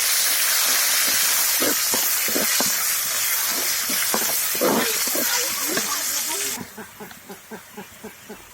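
Onions hitting hot oil in a pan after frying potatoes for a chicken curry, giving a broad hissing sizzle with scattered pops and crackles for several seconds before dropping off, then a few soft intermittent sizzles and taps.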